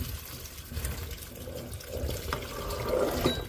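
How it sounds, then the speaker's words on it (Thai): Water splashes and trickles steadily as salted Thai brittle eggplants are rinsed to wash off the brine, a close, continuous sloshing with a slightly louder swirl near the end. "ไปล้างเอาน้ำเกลือมันออกพี่น้อง"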